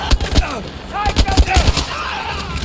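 Grenade blasts and gunfire in the video game Battlefield 5, a loud close burst of rapid cracking shots and bangs, heard over someone talking.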